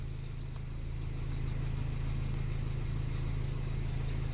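A Peugeot 208 1.4 VTi petrol engine with a stalling, hard-starting fault runs steadily at idle, a close, loud low rhythmic thrum that rises slightly in level and holds with no talk.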